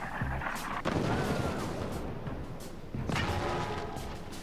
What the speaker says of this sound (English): we're actually getting some shots